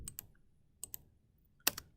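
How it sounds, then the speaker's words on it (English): A spacebar on a computer keyboard is pressed several times in quiet, giving sharp, close clicks in small pairs spread over two seconds. "Hit spacebar again on the keyboard."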